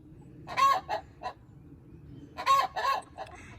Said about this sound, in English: Cream crested leghorn. One of the leghorn crosses.